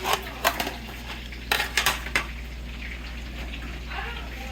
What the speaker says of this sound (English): bust a little bit of that meat loose from the bottom of that skillet, get it all scraped loose